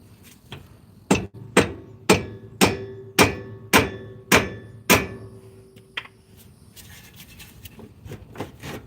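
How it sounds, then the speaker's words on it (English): Mallet blows on a 240SX MaxPeedingrod coilover part, about nine sharp, evenly spaced strikes in a quick steady rhythm, close and ringing briefly, followed by quieter shuffling. "I could just hit it with the mallet still"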